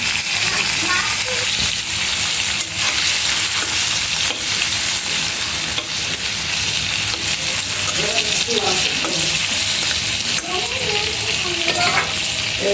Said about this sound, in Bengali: চিংড়ি মাছ ভাজি করে নিই